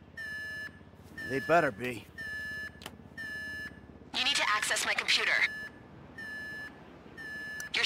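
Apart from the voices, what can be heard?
alarm beeping in a bank raid mission, from video game GTA V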